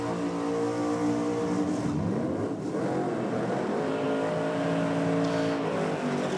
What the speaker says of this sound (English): Supergas now fired up and warming the tyres up once again.